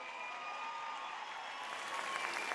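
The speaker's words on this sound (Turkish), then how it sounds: "Ben alkışlıyorum hanımefendiyi." An audience at a Turkish political rally applauds steadily, a dense and even wash of clapping that stays constant and somewhat distant, with no voice over it.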